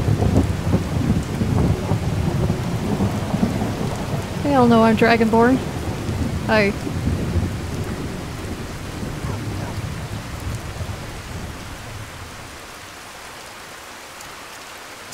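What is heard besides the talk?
rain and thunder in the video game Skyrim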